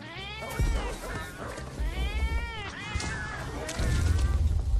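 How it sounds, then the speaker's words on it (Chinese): A cat meows repeatedly in the online game Monster Hunter Online, several drawn-out wavering cries in a row, fairly close and clear, with thumps and game noise between them. "好惨的小猫咪啊"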